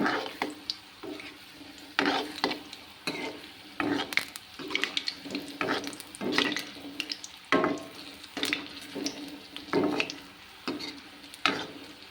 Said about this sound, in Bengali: পিঠাগুলো এবার ভেজে লাল লাল করে তুলে নেব।